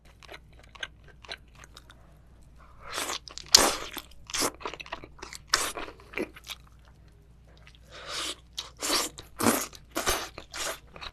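Crunchy, wet chewing of raw seafood, including crab, heard close up in irregular bursts of crisp bites and squishy mouth sounds, with quiet pauses between.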